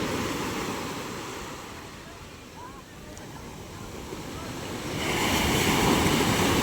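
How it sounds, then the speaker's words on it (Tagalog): Big ocean waves at sea wash and roar continuously with wind noise, swelling louder toward the end as surf builds up close by. "Lalaki ng ating alon."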